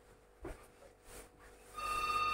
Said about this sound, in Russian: подождите, телефон звонит